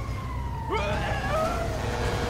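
An ambulance siren in GTA 5 wails with a rising and falling tone over steady traffic rumble, fairly close and loud for a couple of seconds.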